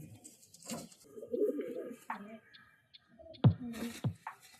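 Soft, low cooing from a Calcutta-bloodline pigeon in a quiet setting, with a few faint clicks and rustles around it.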